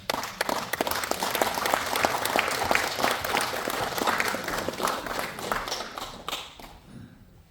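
Large indoor audience in a hall applauding to welcome a speaker at a national chapter launch ceremony, dense sustained clapping at steady loudness that thins and fades out near the end.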